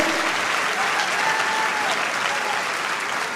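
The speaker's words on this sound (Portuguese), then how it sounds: "Pode ser mais forte esse aplauso?" Loud, sustained applause fills a church congregation, a dense wash of clapping held steady throughout, with faint voices beneath.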